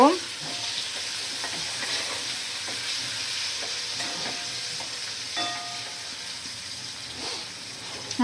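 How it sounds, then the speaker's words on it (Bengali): Oil sizzles steadily in a pan while capsicum is fried and stirred, with scraping clatters of a utensil scattered throughout, no voices. "ক্যাপসিকাম দিয়ে ভালো করে ভাজা করে নেব"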